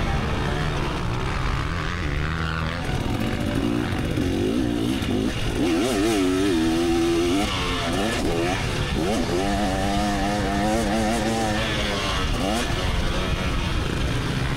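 A 300cc two-stroke motocross bike rips around a practice track, its engine revving up and down continuously with sharp rising and falling pitch sweeps, loud and close throughout the whole stretch.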